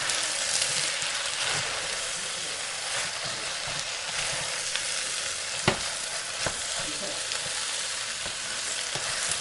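Bean sprouts stir-fry in a pan for pad thai, a dense, loud continuous sizzle with occasional sharp clinks and scrapes of stirring, heard close and with no voices.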